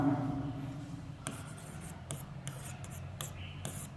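Pen scratching on paper while a physics calculation about the number of bulbs is written out, a series of short scraping strokes close by, with no speech during the writing.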